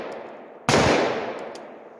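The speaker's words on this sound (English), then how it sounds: "Now I'm going to shoot it with the light on." A single loud rifle shot fired at night from a rifle fitted with an ACOG scope, sharp and close, decaying into a fading echo against a hissy background.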